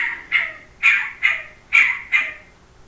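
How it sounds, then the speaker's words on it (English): Loud bird calls ring out close by, five harsh, evenly spaced calls about half a second apart that stand alone without any talking. They were said to come from a quail. "that is a very loud quail, by the way"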